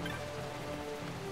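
Steady rain pours down across an outdoor area in the video game Final Fantasy 12, a constant, even hiss of drops on the ground with no voices.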